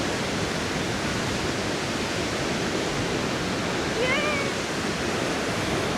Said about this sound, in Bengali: এটাই সেই নুরানাং জলপ্রপাত, দেখুন সেই মাথা থেকে জল পড়ছে পড়ে